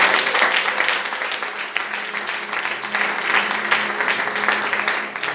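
A church congregation applauds, a dense, continuous wash of many hands clapping at a steady level for several seconds, with no voices above it.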